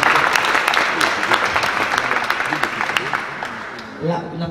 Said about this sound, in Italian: L'applauso è doveroso.